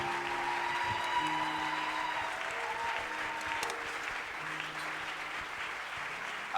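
A church congregation claps and cheers at a worship service, a dense, continuous wash of applause with faint sustained tones from musical instruments behind.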